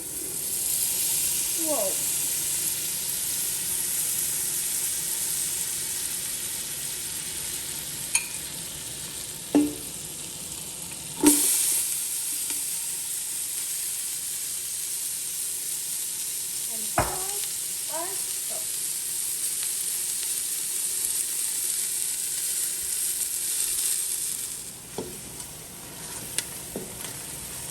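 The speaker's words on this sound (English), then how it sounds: "over medium heat in our soup pot, we're going to add our butter, onion, and salt and saute." Butter, onion and salt sauté over medium heat in a soup pot, giving a steady, close sizzle that runs the whole time, broken by a few brief clinks and stirring knocks, with a short spoken exclamation.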